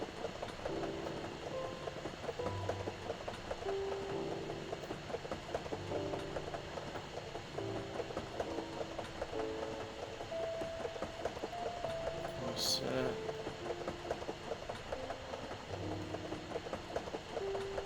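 A steady rumbling run of a train in the Tracks train set video game, continuous and even throughout, with faint tonal whistling hints and one brief bright click partway through.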